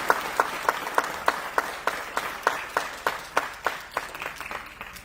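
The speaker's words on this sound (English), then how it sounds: "please give them all another big round of applause" Audience at a Guru Purnima cultural program clapping in a slow, regular rhythm, about sixteen distinct claps spaced evenly and fairly close, with a faint wash of other hands behind them.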